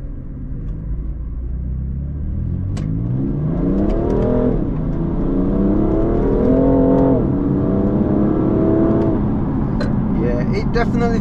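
A car with a dual-clutch gearbox revs hard under acceleration, loud close engine note climbing in pitch through several quick gear changes, with road rumble throughout.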